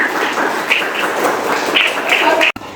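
A classroom of children clapping hands in a rhythmic single-double pattern led by their teacher, a dense steady patter of many small hands close by, with voices chanting along throughout.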